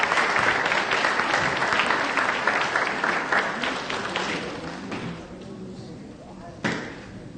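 A church audience applauds a band at a Black History Month gathering, with sustained clapping that gradually thins and fades, ending in a few scattered claps and one sharper knock near the end.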